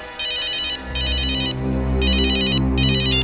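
A phone ringtone trills in four repeated electronic bursts, loud and close, with a steady low hum running underneath, in a CID crime drama episode.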